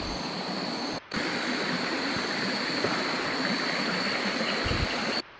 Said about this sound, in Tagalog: parang may ilog malapit sa pinuntahan niya ang ingay uh, ano tunog ano agos ng tubig